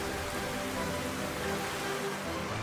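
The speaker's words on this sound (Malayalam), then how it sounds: "മഴ കുറയുമെന്ന് കാത്തെങ്കിലും മഴ കുറഞ്ഞില്ല." Heavy rain pours steadily as a dense, even wash of falling water, loud and continuous throughout with no voices, setting the scene of a biblical flood.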